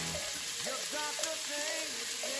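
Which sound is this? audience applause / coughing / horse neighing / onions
onions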